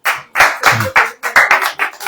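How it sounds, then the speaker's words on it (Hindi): Hands clapping in a religious preaching gathering, eight or nine loud, close claps in a fairly even rhythm with brief gaps between them. "ताली नहीं बजाओगे?"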